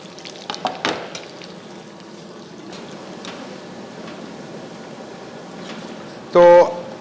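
Pakoras frying in hot oil give a soft continuous sizzle with a few stirring clatters early on and a brief loud metallic clang near the end.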